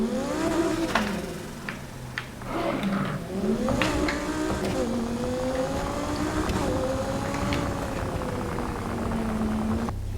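An Audi R8 tearing through a city race in Need for Speed, its engine note climbing and falling through gear shifts with steady rev sweeps and occasional tire noise, loud and continuous throughout.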